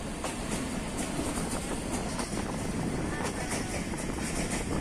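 Onboard the Benapole Express, a passenger train runs toward Benapole with continuous rumbling wheel noise and faint clickety-clack rhythm from the rails, steady and enveloping throughout.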